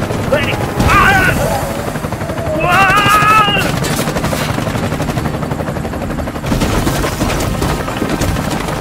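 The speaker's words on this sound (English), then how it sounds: "I'm under heavy fire." Heavy gunfire in the video game Bright Memory: Infinite: dense, sustained automatic bursts over a loud roaring, engine-like rumble, with brief chirping electronic tones early on and continuous clatter throughout.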